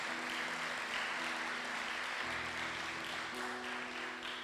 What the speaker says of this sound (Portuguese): Aplauda bem forte o Senhor, em nome de Jesus.